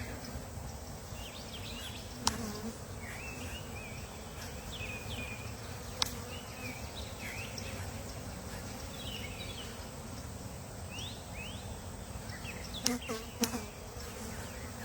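Honey bees buzzing around an opened hive, a steady low drone close by with occasional clicks and handling knocks, and faint bird calls in the background.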